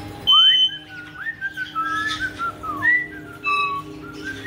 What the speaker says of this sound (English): Oh, I hear somebody whistling.